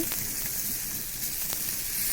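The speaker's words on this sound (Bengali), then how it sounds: "আমি বেগুন ভাজাগুলো অল্প তেলেই ভাজতেছি" Eggplant slices frying in a small amount of oil over a lowered flame give off a steady, close sizzle with occasional crackles, no talking.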